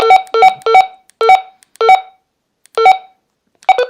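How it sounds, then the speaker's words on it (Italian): Menu beeps from a Retevis RA619 Bluetooth walkie-talkie: a rapid series of short, clear electronic tones in close, loud bursts separated by brief silences, with nothing else audible. "Questo qui è i beep, se volete usare i beep del menu"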